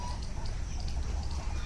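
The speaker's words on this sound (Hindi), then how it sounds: "यहाँ पर देखो कितने सारे बतख है भाई" Many ducks at a zoo beside a tiger safari entrance, a steady cluster of quacking and fowl calls that runs through the whole stretch amid outdoor noise.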